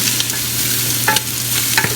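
Garlic stirred and browning in a frying pan, a loud steady sizzle up close with a low hum and a few brief scraping stirs.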